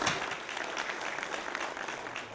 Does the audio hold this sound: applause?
yes